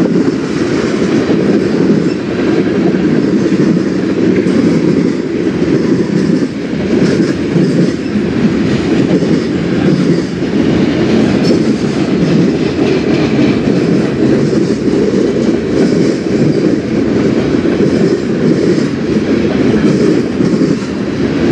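A CSX freight train rolls past at night in Fostoria, Ohio, with a loud, continuous roar of wagons and rumbling wheels held steady throughout, close by and with no talking.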